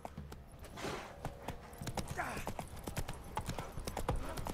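Horse hooves clopping in a quick, uneven rhythm in The Witcher 3 video game, close and clear, with a voice and brief game sounds mixed in.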